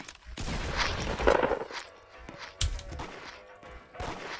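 Gunfire in the Roblox game Da Hood, a few sharp bursts and scattered shots at close to medium range, with loud impacts around the middle and later on, and a player talking over the action.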